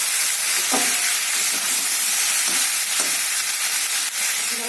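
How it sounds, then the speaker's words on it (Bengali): Tomato sautéing with green chillies and chilli powder in a pan for a rohu fish curry, giving a steady, close sizzle with a few soft stirring scrapes and no talking. "টমেটোটা একটু কষিয়ে নেব"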